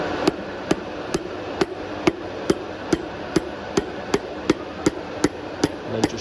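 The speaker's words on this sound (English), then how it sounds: "tap it down with a rubber handled mallet until it's just below the face of the block" A rubber-handled mallet taps a piston down into an engine block bore through a ring clamp, about fourteen light, evenly spaced knocks in a steady rhythm, close and clear with no talk.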